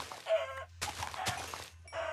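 Minecraft chicken clucking in the game, a few short faint clucks spaced between brief bursts of in-game noise, with no talking.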